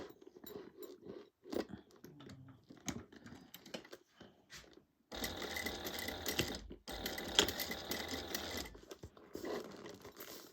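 A sewing machine runs a 3/8 inch seam around a crossbody bag, beginning with scattered clicks and short handling taps, then breaking into a louder continuous mechanical whir in two bursts separated by a brief pause.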